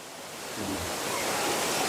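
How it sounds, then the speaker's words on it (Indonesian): A waterfall near Cangar bridge pours with a strong flowing current, a steady broadband rushing roar that grows slightly louder and stays unbroken, with no voices. "Saya akan mengajak teman-teman melihat lebih dekat ke air terjun ini"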